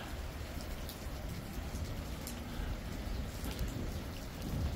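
Steady rain keeps falling and pattering on surfaces in a continuous, even wash, with low thunder rumbling through the background. No one speaks.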